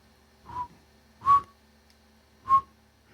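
Short whistled phrase: three separate clear, fairly loud notes spaced about a second apart, each rising or sliding briefly, alone with no talk.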